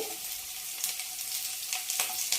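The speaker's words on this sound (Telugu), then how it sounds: "ఇలా ఉన్నప్పుడే పచ్చిమిరపకాయలు వేసుకోవాలండి." Green chillies fry in hot oil for aloo 65, a steady close sizzle with faint stirring ticks, no voices.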